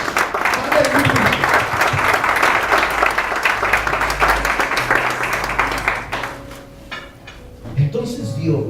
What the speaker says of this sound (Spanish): Se merece un aplauso a Jesús.